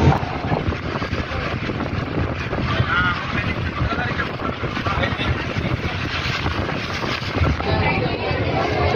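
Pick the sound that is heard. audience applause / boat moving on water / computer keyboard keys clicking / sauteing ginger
boat moving on water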